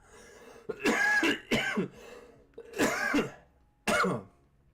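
A single person coughs and clears their throat in four separate bursts, close and fairly loud against near silence between them.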